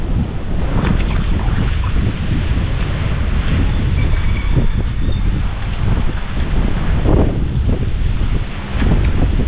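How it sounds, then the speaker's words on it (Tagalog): Strong wind at sea buffets the microphone continuously, roaring over waves and water around a boat, loud and unbroken. "Ang lakas ng hangin eh."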